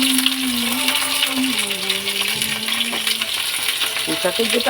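Vegetables frying in hot oil with panch phoron and bay leaf, a steady close sizzle running throughout, with a few light clinks of a utensil near the end.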